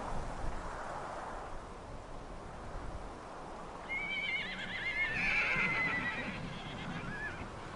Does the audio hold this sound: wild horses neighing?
yes